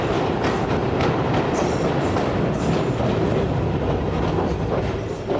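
The Tezgam passenger train rumbles over a bridge, wheels clattering in a steady, loud, continuous roar heard from inside the carriage.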